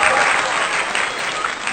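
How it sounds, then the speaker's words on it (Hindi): An audience at a religious discourse gathering breaks into loud, sustained applause, a dense wash of many hands clapping close by, with no talk over it. "एक बार आप लोग भी जोरदार ताली बजाकर इन सभी का आभार"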